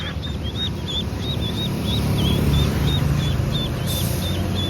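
Repeated short, nasal duck quacks ring out in a steady series over a loud, constant low rumble in the background.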